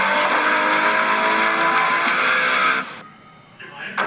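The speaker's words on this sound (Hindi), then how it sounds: "ये गाड़ी हल्की है, अगर इसे एक बार और धक्का लगा तो ये ट्रैक से बाहर खाई की तरफ चली जाएगी।" A light race car on a racetrack roars loudly and steadily for about three seconds with dense engine harmonics, then cuts off abruptly, leaving faint noises; voices may be present.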